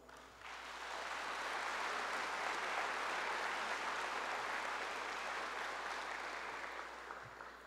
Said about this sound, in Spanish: a quien le pido un fuerte aplauso